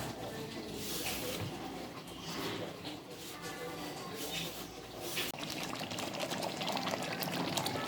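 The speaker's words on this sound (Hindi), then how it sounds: "पानी डालते जाएं और व्यूअर्स भूनते जाएं।" Water is poured into a pan of green masala chicken frying on the stove, giving a steady sizzling, bubbling wash of sound that continues for several seconds.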